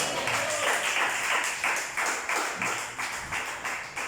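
A church congregation claps for the Lord, producing rhythmic, rather sparse clapping in regular bursts that fills the room at moderate loudness, with no voices over it.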